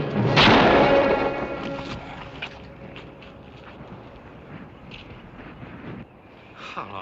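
A single loud gunshot cracks out at the start of a western frontier standoff, then a long rumbling decay trails off under faint background noise.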